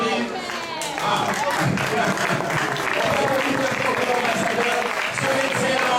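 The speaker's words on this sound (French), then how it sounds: "Est-ce qu'on peut applaudir pour le président de la nation?" An audience applauds a national president at an event before a music concert, sustained clapping mixed with crowd noise and some talk over it.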